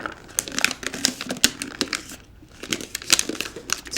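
Wrapping paper crinkles and rustles in irregular bursts while being folded into pleats around a cookie tin, close and fairly loud with short pauses between handlings.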